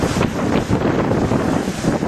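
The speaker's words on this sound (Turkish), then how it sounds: "Türkiye'nin kuzeyinde ise sağanak ve fırtına etkili. Dalgaların dövdüğü bu yer Zonguldak'ın Ereğli ilçesi." Storm-driven surf pounds the shore at Ereğli in Zonguldak during heavy rain and gale, a continuous loud roar of crashing water mixed with strong wind buffeting the microphone.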